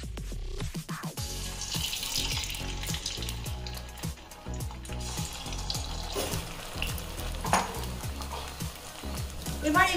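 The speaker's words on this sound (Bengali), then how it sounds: "এবারে এতে ফুলকপির পকোড়াগুলো ভেজে নেব।" Cauliflower pakoras fry in white oil in a wok on a gas stove, a continuous loud sizzle with bubbling and repeated clinks and scrapes of stirring close by.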